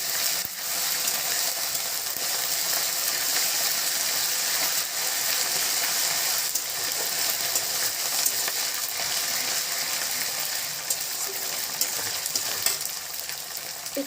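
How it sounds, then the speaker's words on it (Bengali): Ginger paste fries in a pan for a chicken kanti recipe, giving a loud, steady, dense sizzle with crackling that continues without pause and has no talk over it. "আদাটা একটু ভেজে নেব।"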